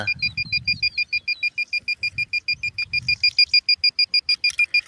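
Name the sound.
metal detector beeping over buried metal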